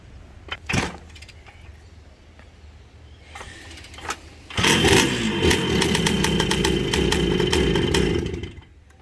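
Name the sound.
1974 Honda CR250M Elsinore motorcycle engine running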